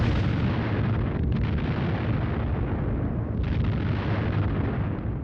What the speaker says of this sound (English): the whistle and crunch of high explosive bombs dropped in their thousands